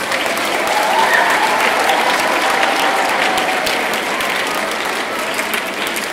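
At a middle school awards ceremony, an audience gives loud, dense applause that stays strong and steady throughout, with faint crowd murmur blended in.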